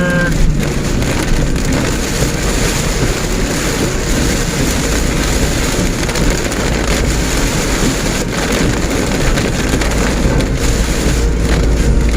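Heavy rainstorm drumming on a car while driving toward Tanjung Bira in strong wind, a loud continuous roar of rain and road noise with no voices.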